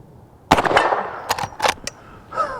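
Loud close gunshot from a Henry Big Boy Classic .44 Magnum lever-action rifle, a sharp crack with echoing tail, followed by several lighter metallic clicks and clacks of handling.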